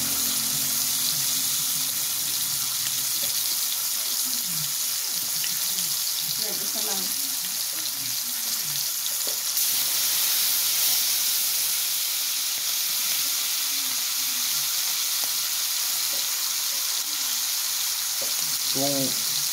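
Fish heads fry in a pan with a loud, continuous sizzling hiss that holds steady from start to finish, with brief voices surfacing faintly in the background now and then.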